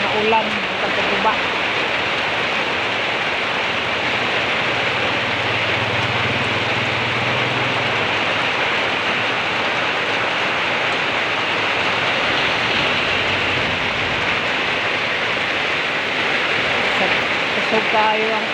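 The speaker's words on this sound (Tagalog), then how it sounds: "Kusog kayo ang ulan." Heavy rain pours down in a loud, steady roar that holds unbroken throughout, with no voices over it.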